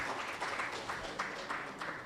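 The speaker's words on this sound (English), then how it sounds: "Please, yes, another round of applause." An audience at an employers' annual conference breaks into a round of applause, a dense continuous wash of clapping from many hands that holds steady for a couple of seconds.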